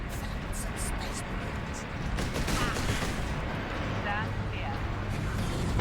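Dense continuous gunfire and battle noise in the Warhammer 40K Space Marine video game, a loud steady wash of shots and mechanical clatter with voices talking over it.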